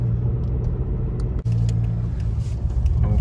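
Diesel engine of a 2008 Mercedes W169 A-Class CDI 109 with automatic gearbox, faulty and losing power, roaring under hard acceleration on a boulevard: a loud, steady low drone heard from inside the car, briefly interrupted once.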